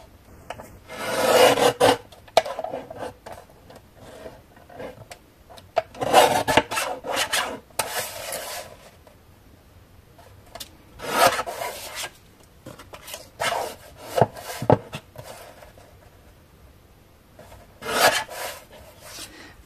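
Small craft scraps being cut into pieces, close-up rasping and rubbing strokes that come in irregular bursts with quiet gaps between them.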